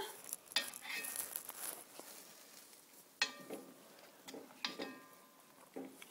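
Carnitas simmering in a pot are stirred, giving a few sharp scrapes and knocks of the spoon against the pot over a soft, steady bubbling sizzle.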